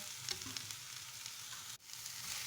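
Mushrooms stirred into a sizzling masala of onion and green chilies in a pan give a steady, soft frying hiss with light scraping strokes and a brief dip near the end.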